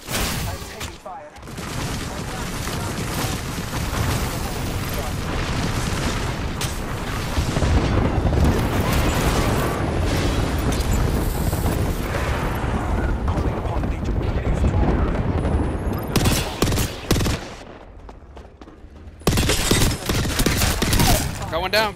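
Dense, continuous gunfire and explosions in Apex Legends, loud and sustained for most of the stretch with a brief lull near the end, mixed with game sounds.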